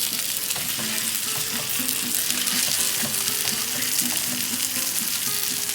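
Marinated chicken breasts searing in a pan of oil, a dense, steady close sizzle with light crackles and occasional small stirring taps, nobody speaking.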